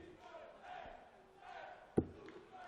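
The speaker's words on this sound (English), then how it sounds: "I think the crowd are singing Super Chiz, Super Chiz." A darts crowd at the 2019 German Darts Open chants Super Chiz for Dave Chisnall, a distant rhythmic mass of voices with a sharp thud cutting through near the end.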